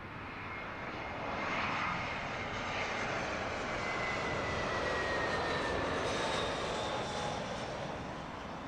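An airliner at London Heathrow Airport passes with a steady, broad engine roar that swells slightly and holds, heard alone without talk.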